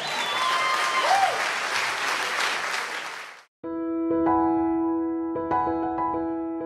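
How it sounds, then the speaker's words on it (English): Audience at a gala bursts into dense, loud applause that fills the first three and a half seconds, then cuts off abruptly before sustained music with tonal chords takes over. "Clap your hands if you're glad to be here tonight"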